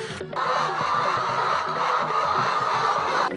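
A flock of broiler chickens on a poultry farm keeps up a dense, continuous clucking chatter, steady and fairly close.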